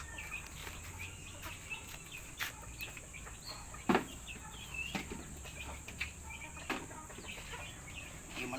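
Chickens with chicks in a coop at feeding time, scattered clucks and peeps with occasional wing flaps and soft rustling, moderately near and continuous over a low steady background.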